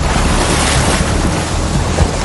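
Muddy, fast-flowing river water churns and splashes at a wildebeest crossing where a crocodile lurks: a loud, constant rushing roar with wind buffeting the microphone, and no voices.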